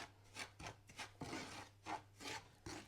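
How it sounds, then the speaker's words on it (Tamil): Semolina (rava) being dry-roasted in a pan for upma, with a spoon or spatula scraping and stirring in repeated dry, raspy strokes, close and steady over a faint low hum. "இந்த மாதிரி கொஞ்சம் லேசாக அது பச்சை வாசனை போகிற அளவுக்கு ஒரு 1 மினிட் இந்த மாதிரி நல்லா கொஞ்சம்"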